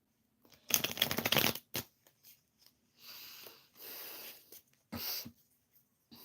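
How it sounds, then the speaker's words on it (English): Tarot cards shuffled by hand in a quick riffling burst, followed by scattered softer shuffles and card slides, close and moderately loud with no talk. "So I'm shuffling some more cards."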